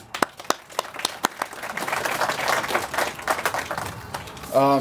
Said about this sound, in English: Please give a round of applause and welcome Mr. Alejandro Puy.